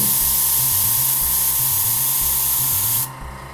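An airbrush with its trigger pulled fully back sprays onto canvas in a strong, steady hiss for about three seconds, then cuts off abruptly, leaving a faint hum of the compressor.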